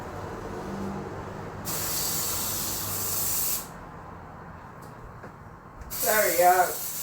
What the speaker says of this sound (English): I had to spray. Some mosquitoes came in here.